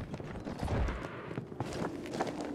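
Horse hooves clip-clop in the video game Battlefield 1, a run of quick, uneven thuds over steady game ambience.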